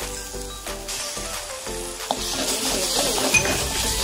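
Chopped tomatoes sauté in a pan for an aloo chole dish, sizzling loudly and close while a spoon stirs and clinks against the metal.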